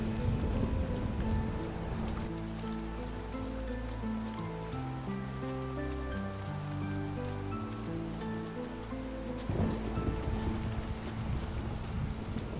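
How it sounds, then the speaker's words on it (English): Steady rain falls in the video game Submerged: Hidden Depths, a constant wash of loud downpour under sustained low tonal music, with a faint rumble of thunder in the background. "Boy, this storm is something."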